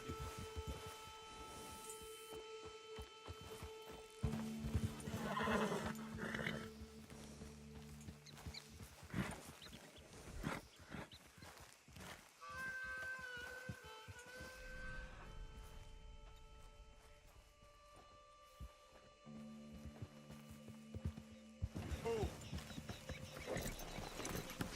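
A horse in Red Dead Redemption 2, with steady clip-clop of hooves and an occasional whinny over quiet game ambience and a faint background tone, heard for about 25 seconds.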